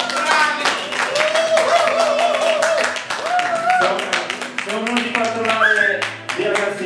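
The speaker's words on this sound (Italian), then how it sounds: "Applauso!" Applause at an open-stage evening at ARCI Metissage: a burst of hand clapping mixed with lively voices close by, continuing steadily through the moment.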